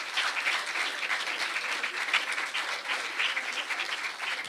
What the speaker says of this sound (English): A bigger round of applause for them.